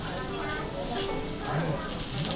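Bread grilling in lamb fat on a hot grill, a steady close sizzle of frying that continues beneath people talking.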